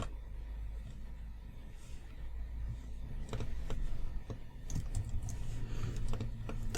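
Fingers type on a computer keyboard in quick, uneven runs of light clicks, close and fairly quiet, growing busier toward the end with no talking.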